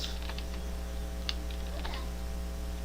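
Quick, light keystrokes patter on a computer keyboard in short irregular bursts while entering a number into Python code, faint and close, with a steady electrical hum underneath and no voices.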